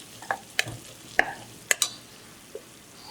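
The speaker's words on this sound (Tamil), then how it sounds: "வெங்காயம் தக்காளி வதங்கிடுது" Onion and tomato masala for mutton biryani sautés in a pan with faint sizzling, broken by several sharp, close clinks of a spoon stirring against the metal.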